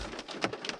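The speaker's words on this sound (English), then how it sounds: "we gotta wait till the rain subsides" Rain falls outdoors in a steady, close hiss with scattered patter, lasting under a second with no voices.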